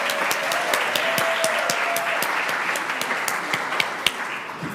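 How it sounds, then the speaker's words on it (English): Applause at a Mason City Council meeting, a modest roomful of hands clapping for Mr. Stegbauer, with distinct individual claps standing out over a steady patter for several seconds. "how about we get all of our claps out for Mr."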